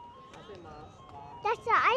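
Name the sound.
ice cream truck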